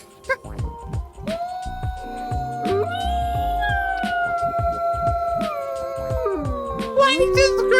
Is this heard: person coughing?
no